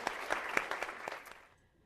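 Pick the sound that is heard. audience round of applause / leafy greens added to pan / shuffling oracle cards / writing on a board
audience round of applause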